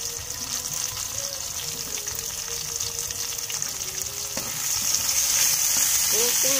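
Chopped onions hit hot oil in a pan and crackle loudly and continuously, the sizzle swelling a little toward the end with no voices over it.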